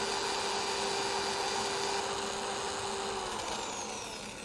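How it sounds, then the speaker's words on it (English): A power sander works the broken top end of a turned wooden bullet on a lathe, giving a continuous, harsh, close whirring hiss that eases slightly in pitch and loudness toward the end. "we'll come in with our sander and this top end where it broke off"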